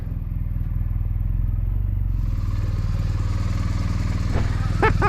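A BMW R1250R motorcycle being ridden, its engine a steady deep drone with wind noise rising partway through, loud and close, with a brief voice near the end.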